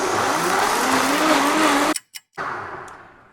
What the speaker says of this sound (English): It works best in a high powered blender like this, but you could do it in a lower powered blender.